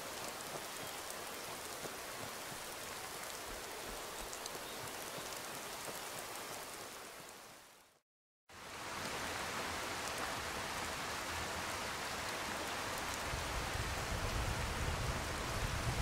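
Steady rain falls in the video game Skyrim, with a dense, even hiss that runs almost continuously. The wash cuts out briefly midway, then returns just as full and slightly heavier toward the end.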